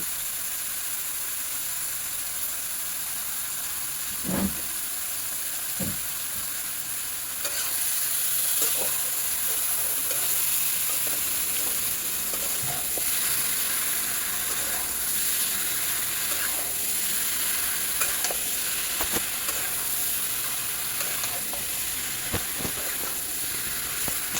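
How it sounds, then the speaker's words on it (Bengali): Beef being stirred and fried in a pan, a steady sizzle and hiss with occasional scraping strokes that thicken into a denser fry partway through, close and continuous with no talk. "ভালো করে নেড়ে চেড়ে মাংসটিকে কষিয়ে নেব"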